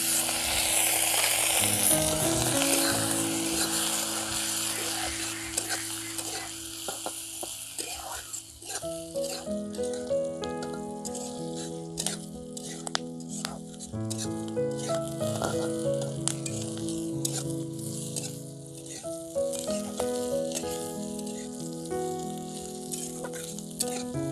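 Whole green chillies frying in a pan with turmeric, a close crackling sizzle that is strongest at the start and settles into scattered pops under background music.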